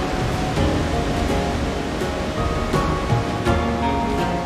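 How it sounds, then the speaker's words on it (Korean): Khone Phapheng waterfall in southern Laos roars as heavy water pours between rocks, a loud, constant broadband rush with no voices over it. "펌파팽 폭포입니다."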